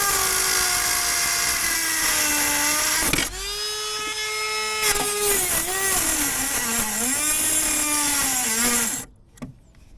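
Dremel rotary tool cutting through the outboard motor pad bolts on a Drascombe Lugger boat, a loud close high-pitched whine that dips and rises in pitch under load before cutting off near the end.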